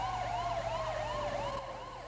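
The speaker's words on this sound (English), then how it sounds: "You want to cycle the second siren?" Emergency vehicle siren in a video game, a loud, close wailing tone that sweeps up and down in steady repeating cycles over a low engine hum, with no voices.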